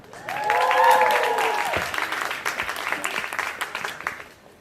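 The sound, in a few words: audience applause at a press event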